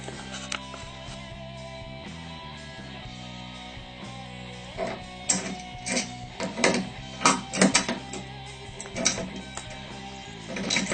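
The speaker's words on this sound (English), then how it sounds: "Use your wrench to tighten it." A wrench tightening a bolt while an upright exercise bike is assembled: irregular metallic clicks and ratcheting taps, close and moderately loud, growing busier in the second half over a steady background hum.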